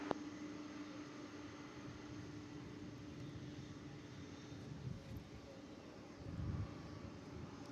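A plane at DFW Airport taking off, heard as a distant, steady broadband roar of jet engines that swells slightly toward the end, no voices.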